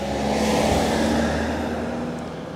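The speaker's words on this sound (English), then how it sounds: "Let this lorry van go past." A lorry van drives past close by on a road, its steady engine rumble and tyre roar holding loud and even before easing off slightly near the end.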